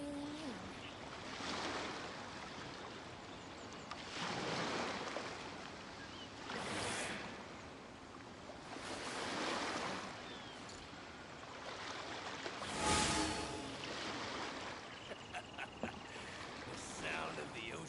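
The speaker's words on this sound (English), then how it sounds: "The sound of the ocean waves." Ocean waves in Genshin Impact wash in and recede in slow repeated surges, each swell of hiss rising and fading every few seconds, soft and steady with faint ambient sounds between.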